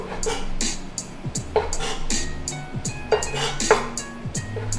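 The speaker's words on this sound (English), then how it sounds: "I'm gonna cut the edges off our bread." A knife trims the edges off slices of bread for spaghetti-stuffed meatballs, making a string of sharp taps and knocks against a board at an uneven rhythm, close and fairly quiet, with no talking.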